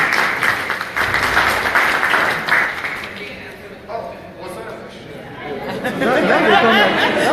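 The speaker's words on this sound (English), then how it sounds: "Round of applause, please." Conference audience applauding, a mix of clapping and crowd chatter that rises and fades, then swells again near the end.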